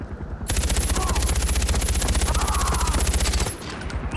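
A rapid burst of automatic gunfire in the video game Far Cry 4 runs loud and unbroken for about three seconds, then cuts off, leaving quieter game ambience.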